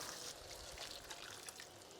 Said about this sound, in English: I'm also going to add in another 100 ml of boiling water to this.